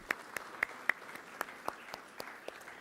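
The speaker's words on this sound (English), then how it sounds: "So really a big applause to them." Light, scattered applause for event trainers and organizers at a youth event, a handful of separate claps spaced irregularly and heard faintly at a distance.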